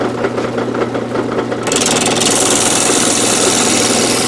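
A lathe starts up for cutting arrow shafts, going from a rhythmic mechanical rattle to a steady, loud whirring hum with added hiss, close and with no talking.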